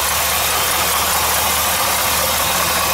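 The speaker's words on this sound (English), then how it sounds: "Beautiful 327 small block," A 1958 Chevrolet Apache pickup with a restored 327 small-block V8 idles steadily and close by, a low even rumble with no voices over it.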